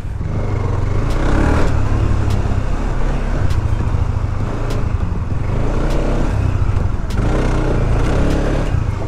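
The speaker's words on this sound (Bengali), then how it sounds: "এই ভাঙাচোরার ভিতর দিয়ে বাইকটা ঢুকাই দিব" A Honda CB150X motorcycle rides over a broken, rough road, its engine droning steadily and loudly up close, with rumbling wind and road noise and small knocks from the uneven surface.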